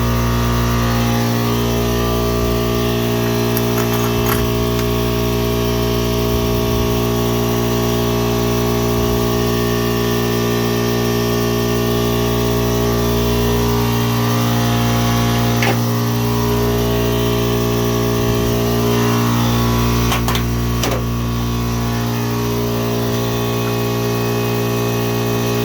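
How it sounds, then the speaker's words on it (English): An air compressor runs steadily in a garage during a Mopar 318 engine mockup, giving a loud, continuous mechanical drone with a few brief knocks over it. "AC compressor's going, or air compressor's going right now"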